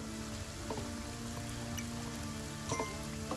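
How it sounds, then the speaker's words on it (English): Steady rain falls across a medieval landscape in the game Kingdom: Norselands, a dense continuous hiss with scattered drip-like taps over soft ambient music. "it just started profusely raining"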